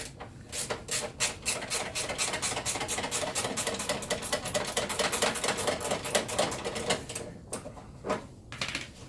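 A wrench works loose the mounting on a dip box condenser coil, giving a long run of rapid, close metallic clicking and rubbing strokes that continues with only a brief pause near the end.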